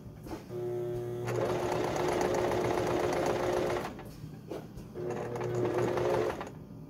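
A sewing machine stitches a baby quilt in two long runs with a short pause between, its motor whirring steadily and loudly up close, with no talk over it.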